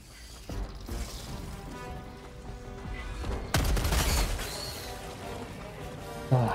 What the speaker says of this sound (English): That's the big machine gun.